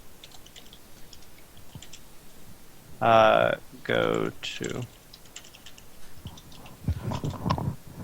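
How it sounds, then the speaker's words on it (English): Loud typing on a computer keyboard, a steady clatter of clicks running under and between bursts of nearby conversation. "I know my keyboard's really loud."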